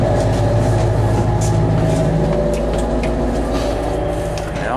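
Steady, loud rumble of a Greater Anglia Class 755 FLIRT passenger train's engines, heard from the passenger walkway through the engine section, with continuous low drone and mechanical hum, a faint high squeal near the end.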